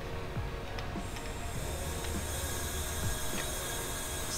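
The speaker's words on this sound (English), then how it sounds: "The only leak that I'm actually hearing, well, is currently from the valve and the MAC valves" Boost leak test on charge piping and intake manifold at about 10 PSI: a steady close hiss of air escaping from a valve, with faint mechanical ticks scattered through it and no speech.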